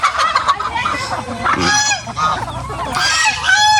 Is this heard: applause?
no